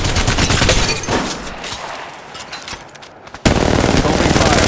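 Automatic weapon fire in Apex Legends Mobile gameplay, loud rapid bursts of gunshots that thin out into scattered shots, then resume abruptly as a sustained burst, with a voice speaking over it.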